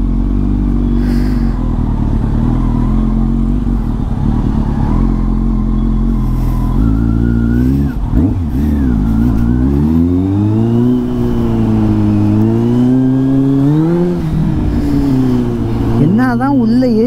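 Kawasaki Z800 motorcycle ridden on the road in Coimbatore, a loud, steady engine drone with wind rush that climbs and falls through several rising rev sweeps as the bike accelerates.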